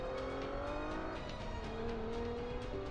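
A race car engine revs steadily in Forza Motorsport 5, its sustained tonal drone shifting pitch as the car takes a curve, loud and continuous with a faint tire squeal underneath.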